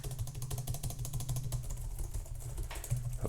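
Rapid, steady keystrokes on a Logitech membrane keyboard, soft repeated taps in a continuous typing rhythm with a low hum underneath and no voices.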